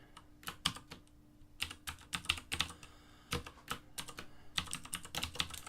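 Rapid bursts of keystrokes on a computer keyboard during a test of a console keystroke-capture program, close and crisp, with short pauses between runs of typing and no talking.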